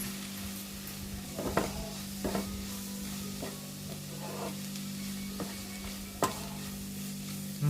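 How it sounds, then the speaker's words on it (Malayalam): Coriander powder sautéed with turmeric in a pan for a jackfruit curry: a faint, low sizzle broken by several distinct scraping stirs of a utensil at irregular intervals. "മല്ലിപ്പൊടി വീണ്ടും നല്ലതുപോലെ വഴറ്റി"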